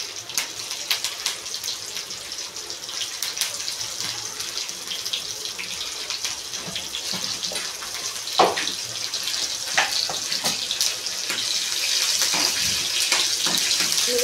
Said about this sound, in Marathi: चांगला फ्राय घ्यायचा।